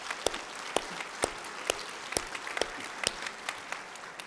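Scattered clapping comes from an audience at a health-enrollment leadership panel general session: distinct, sharp claps at uneven intervals over a low room hum.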